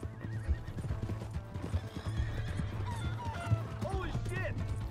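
Horse in Red Dead Redemption 2 whinnying with rising cries near the end, over steady clip-clop hoofbeats, with game dialogue and background noise throughout.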